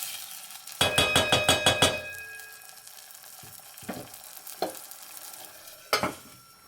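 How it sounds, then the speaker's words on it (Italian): A pan of tomato sizzles with garlic and anchovy for Roman pasta e ceci. A quick run of about seven rhythmic scraping stirs comes first, then a few single scrapes and knocks spaced out over a low, steady fry. "Facciamola di nuovo soffriggere come abbiamo fatto con l'aglio e con l'acciuga e facciamola amalgamare."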